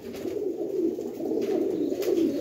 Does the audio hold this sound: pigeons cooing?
yes